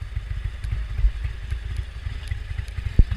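A big-bore Indian Springfield motorcycle with a 116 cubic inch kit runs close by, a steady low engine rumble with light mechanical clatter and one sharp knock near the end.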